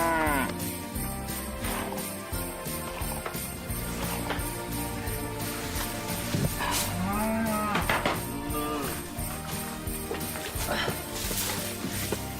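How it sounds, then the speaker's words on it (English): A cow moos on a farm amid loud layered background sound, its long lowing calls rising clearly a few times over a dense, busy mix without speech. "How's Bernadette the cow?"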